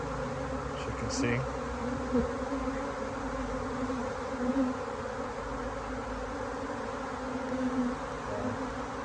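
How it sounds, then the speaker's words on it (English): Many bees fly around a hive, making a steady, dense buzz that fills the air nearby, with a voice speaking briefly over it. "A lot of bees in the air too"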